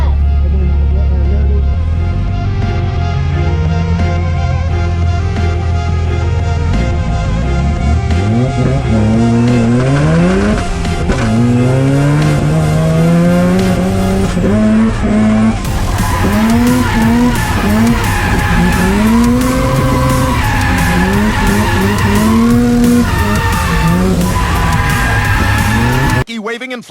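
Tires squeal continuously as a car drifts at the Lone Star Drift event at the Police Academy in Houston, Texas, the engine revving and wailing in rising and falling sweeps, loud and close throughout.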